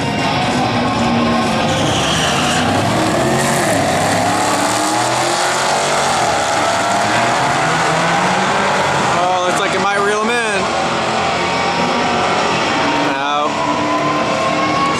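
A white Dodge Challenger SRT 392 and a fifth-generation Camaro ZL1 drag race, their engines roaring loud and continuous with rising revs and gear changes, while people talk.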